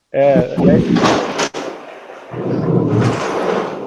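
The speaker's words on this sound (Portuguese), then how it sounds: "Tá louco esse trovão aí, foi?" A sudden loud, close thunderclap booms and rumbles, followed by continuing low rolling rumble.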